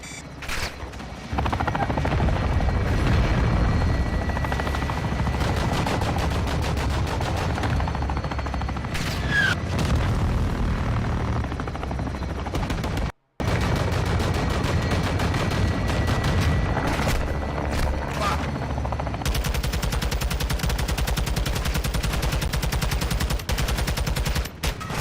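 Helicopter rotor drone in Call of Duty Modern Warfare II, loud and continuous, with bursts of gunfire fired from the aircraft over roughly twenty-five seconds, broken by one brief silent gap midway.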